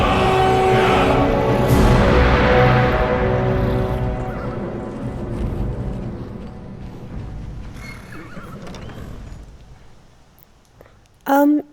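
A horse whinnies loudly and long in Skyrim VR, its neigh falling away over several seconds, followed by quieter sounds and a brief burst at the end.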